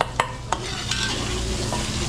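Butter, onion and garlic sauté for spaghetti sauce with a steady close sizzle, while a utensil clinks against the pan a few times early on.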